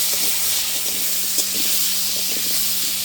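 Potatoes fry in hot mustard oil with salt and turmeric, giving off a loud, steady sizzling hiss that runs unbroken, close by, with faint clinks of stirring beneath.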